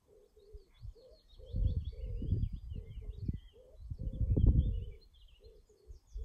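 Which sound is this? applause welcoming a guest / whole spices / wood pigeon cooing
wood pigeon cooing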